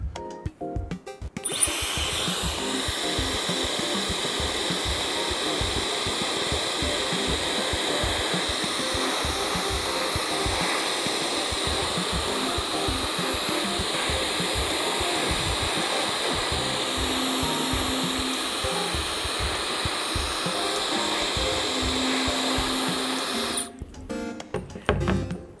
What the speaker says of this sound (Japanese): ダイソーのドライヤーを用意しました。